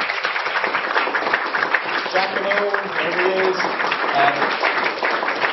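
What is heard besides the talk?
audience applause at a workshop closing session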